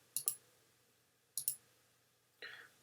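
Two quick double clicks of a computer mouse, sharp and close, spaced about a second apart, followed by a brief soft rustle at the end; no talking.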